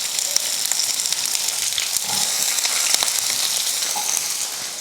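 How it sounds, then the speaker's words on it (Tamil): Cumin and chopped onion frying in hot oil in a pan for a tamarind-style kulambu meal, a steady dense sizzle running close and loud throughout with faint scrapes, no talk. "எண்ணெய் காஞ்சதுமே ஒரு 1/2 ஸ்பூன் அளவுக்கு ஜீரகம் சேர்த்துக்கோங்க."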